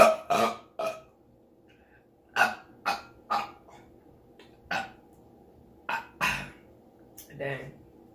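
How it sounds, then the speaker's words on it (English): Loud burps from someone drinking Bud Light Platinum during a Chipotle meal, heard as a string of short, separate eruptions spaced over several seconds, with some brief vocal sounds between them. "I think all I needed was the burp for today"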